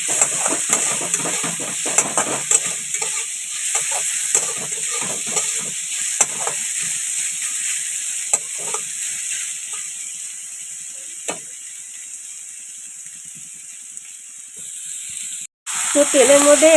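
Cumin, ginger, green chilli and peas frying in hot oil make a loud, steady sizzle with occasional stirring clicks, then the sound cuts off abruptly near the end.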